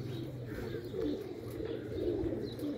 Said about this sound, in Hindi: कबूतर हैं माशाल्लाह